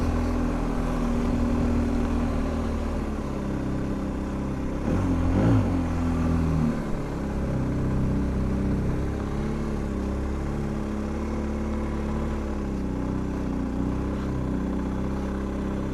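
A BMW R1250 GS Adventure TE Triple Black Edition motorcycle is ridden at steady speed. Its engine drones continuously under heavy wind rush, with one brief swell in the middle.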